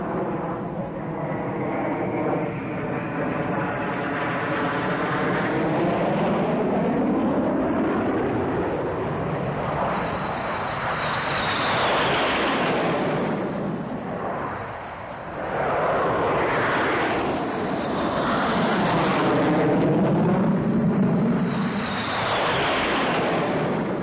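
Jet aircraft performing a flying display at the 1981 Farnborough Air Show, loud roaring engines sweeping past with rising and falling pitch shifts as planes pass close, one after another.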